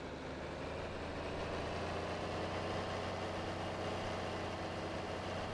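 Tractor engine idling in Farming Simulator 22, a steady low droning rumble that holds constant throughout, close, with no talking.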